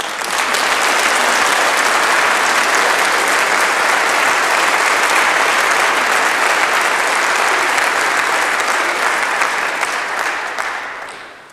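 An audience at a nurses' and midwives' association event applauds warmly, with dense, steady clapping from a large crowd that holds an even loudness for about eleven seconds before tapering off at the end.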